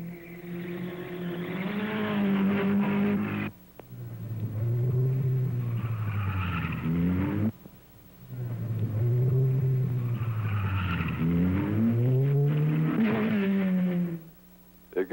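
Vintage sports cars from around 1960, including Alfa Romeos, Austin-Healeys, Porsches, MGs and Volvos, race one at a time up the twisting Chimney Rock hill climb road. Their engines rev loudly and rise in pitch in three long runs separated by brief gaps.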